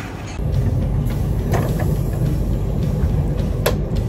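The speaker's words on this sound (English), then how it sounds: "We're in the train." Steady low rumble inside a train that is standing still, with a few faint clicks and knocks over the hum. The level stays even throughout and no clear speech is heard.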